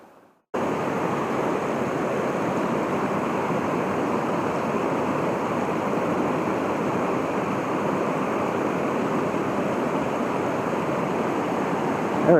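A small trout creek flows and burbles over rocks and pockets close by, a steady broadband rush that starts abruptly and continues evenly with no talking.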